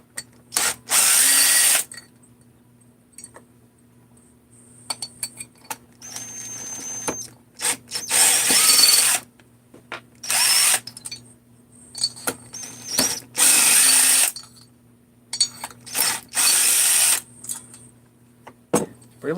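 A power drill backing out screws on a 350 engine project: short, loud whirring bursts repeated many times with quiet gaps, over a steady low hum.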